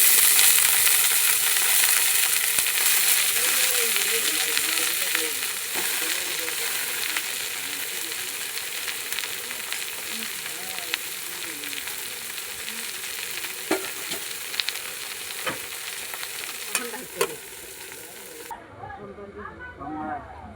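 Onions and bathua greens frying in a pan, giving a steady broadband sizzle with occasional stirring clicks and scrapes. The frying holds throughout and softens toward the end, with faint background voices.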